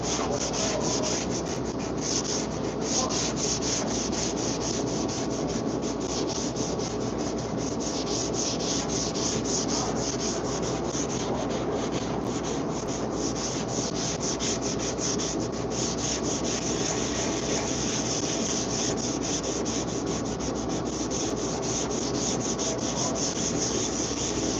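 Sanding light body filler on a car fender with 180 grit sandpaper on a block: a continuous close, loud rasping scrub in steady back-and-forth strokes, with no talk.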